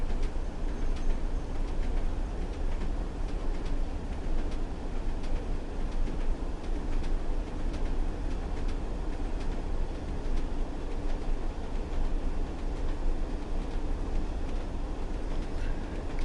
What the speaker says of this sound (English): A lot of clickety clack.